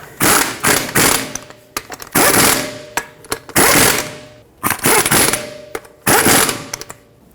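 An impact wrench or power tool tightening lug nuts on a Jeep Renegade wheel, loud repeated bursts of rattling mechanical hammering separated by short pauses, close up with no talking.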